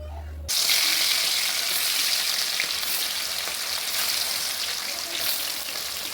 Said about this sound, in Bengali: কড়াই গরম হয়ে গেছে, আমি সর্ষের তেল দিয়ে দেবো মাছ ভাজার জন্য।